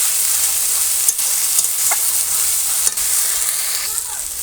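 Spice paste for a meat curry sautéed over a wood fire, giving a steady close sizzle with several brief scrapes of a spoon stirring through the pan, and no voices.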